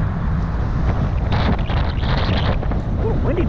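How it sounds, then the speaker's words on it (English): Strong wind buffets the microphone during a bike ride on St. Simons Island, with a constant, loud rumbling roar, gusting unevenly throughout. "A little windy today, too."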